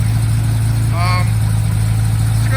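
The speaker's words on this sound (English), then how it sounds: "Started up pretty good, idling pretty good, but a little high." A car engine idling slightly high holds a steady low hum throughout, with a voice briefly audible over it partway through.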